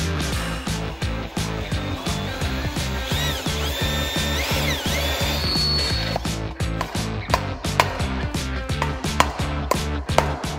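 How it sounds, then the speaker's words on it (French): Power drill boring into a part while building a basketball shooting machine: a close, loud motor whine with rapid rhythmic grinding pulses and sharp clicks, running steadily for about ten seconds. "Je peux essayer de percer, moi, si tu veux."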